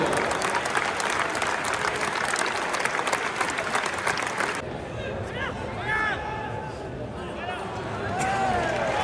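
Stadium crowd applauds a goal by number 11, Mamadou Niang, at FC Lorient's centenary legends match, a dense steady roar of clapping that drops after a few seconds to a thinner patter with scattered whistles and cheers.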